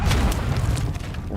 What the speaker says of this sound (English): Actually, this nade might kill him.